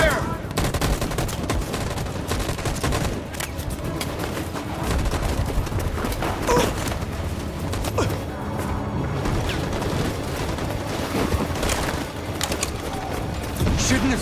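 Sustained gunfire in a chaotic battle in the game Detroit: Become Human, continuous rattling volleys that fill the scene without pause, loud and dense throughout.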